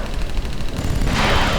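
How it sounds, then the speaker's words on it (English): Bazookas firing in the WWII strategy game Sudden Strike 3, German campaign: a loud, rough burst of blast noise swelling near the end over dense rumbling battle ambience. "So now, will the bazookas fire?"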